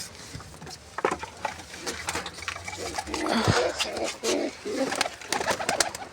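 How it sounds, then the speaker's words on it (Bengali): Pigeons being let out of their coop give low cooing and throaty murmurs amid flapping and shuffling, with irregular bursts of activity close by; no clear speech. "পায়রাগুলো আগে ছেড়ে নেই।"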